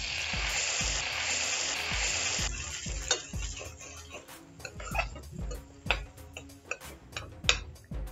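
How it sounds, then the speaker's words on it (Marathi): Washed bhagar (barnyard millet) being stirred and dry-roasted in a pan with cumin and green chili, a steady sizzle giving way to repeated spoon scrapes and clinks against the pan. "आता आपण यात भगर परतवून घेणार आहोत."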